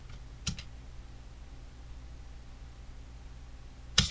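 Two quick computer keyboard presses, the Home key and then the spacebar, sound as separate sharp clicks about three and a half seconds apart, with faint room hiss in between.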